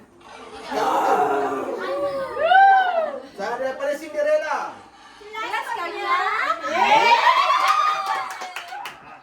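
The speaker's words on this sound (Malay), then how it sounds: "Kita nak dengar sorakan daripada Mai dan Aiman." Children at a Hari Raya quiz shout shrill, sing-song cheers for contestants Mai and Aiman, with scattered clapping, in several close bursts across the clip, with someone speaking among them.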